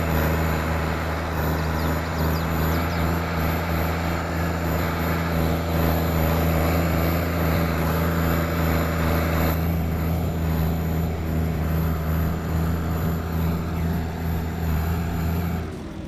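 New Holland TR6 tractor engine in Farming Simulator 22: a constant, loud droning hum with a steady pitch that barely changes, heard close and alone.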